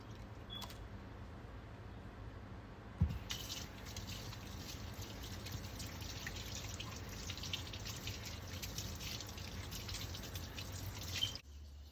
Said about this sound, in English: And then I am scrubbing my fingertips against my palms to get underneath my fingernails.